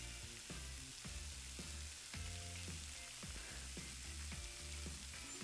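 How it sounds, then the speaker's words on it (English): Fries cooking in a deep fryer in the Chef Life video game, with a continuous crackling sizzle that stays steady throughout under rhythmic background music. "Fries are almost done."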